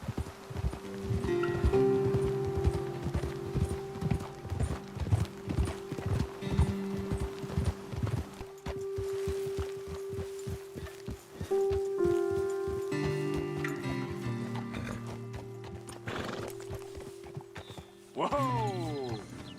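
Horses trotting and galloping in Red Dead Redemption 2, with steady, close, rhythmic clip-clop hoofbeats across a dirt road, accompanied by game music and a few spoken lines, ending in a sharp whoa as the riders pull up.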